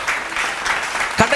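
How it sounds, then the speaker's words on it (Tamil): An audience at a church sermon claps in a brief, steady patter of applause, with a sharp louder clap near the end. "கைத்தட்டுமா அவருக்கு."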